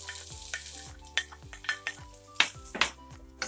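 Onion, garlic and tomatoes sautéing in a pan for Filipino-style bitter melon with eggs and corned beef: a steady close sizzle broken by repeated scraping stirs and a few sharp metallic clinks of the utensil on the pan.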